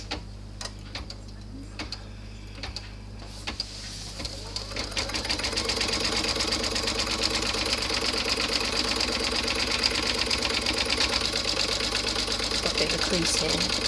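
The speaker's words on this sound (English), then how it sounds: "it will stitch down the placement, it will stitch down the outline of the" An embroidery sewing machine stitches down the lining of a passport and card wallet, a steady rapid mechanical ticking that starts sparse and picks up into a constant close, even whir of needle strokes.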